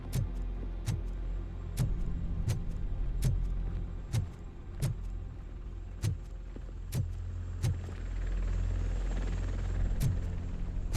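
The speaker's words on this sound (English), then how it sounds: "That's a TV helicopter." A TV news helicopter in RoboCop: Rogue City hovers overhead amid storm wreckage, its steady rotor drone running under evenly spaced sharp ticks roughly every 0.7 seconds throughout, with no talk.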